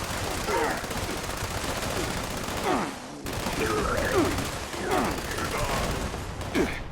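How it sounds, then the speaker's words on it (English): An explosive weapon fires in Fallout 76: repeated rapid bursts of shots over a dense, noisy background, with a sharp cut partway through. "This is my explosive weapon."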